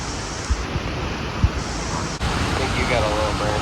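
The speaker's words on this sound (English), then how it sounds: "at the bottom of the waterfall" Steady broadband rush of La Fortuna Waterfall in Costa Rica, heard from its base as a constant close roar with a couple of brief knocks and wind buffeting on the microphone.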